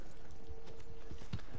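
Horse hooves in the video game Red Dead Online, a steady clip-clop of hoofbeats at a moderate pace over a constant ambient bed, alone without talk.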